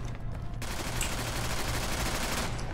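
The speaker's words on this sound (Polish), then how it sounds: "Słyszę strzały." Gunfire in the online tactical shooter game Ghost Recon Online: a dense, sustained rattle of shots that grows louder after a brief lull and continues steadily, with no talking.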